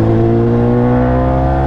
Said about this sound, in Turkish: Egzoz sesi olduğu için malum. Suzuki'nin de bayağı yüksek sesi var, sıkıntı oluyor.